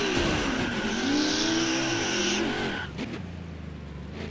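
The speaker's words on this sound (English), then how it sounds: "Now I'm driving in reverse, going at around 44 miles an hour." A car in reverse at about 44 mph, a loud, steady, rising engine whine, close, that drops off sharply after a few seconds into a lower rumble.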